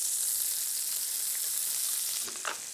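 Chopped onion fries around butifarra sausage in a pan, a loud, dense, continuous close sizzle that eases slightly near the end.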